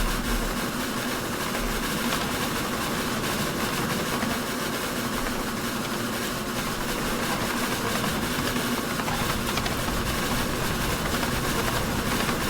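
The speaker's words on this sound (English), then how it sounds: "Now the engine's really picking up speed." A train engine in the video game Steam and Steel rumbles continuously and steadily as it gathers speed, a dense mechanical drone with no voices.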